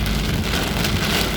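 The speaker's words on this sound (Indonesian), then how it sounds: "Hujannya cukup deras sekali nih" Heavy rain pours down in Jakarta, a steady, dense hiss of drops hitting surfaces close by. It is loud and continuous throughout, with no voices.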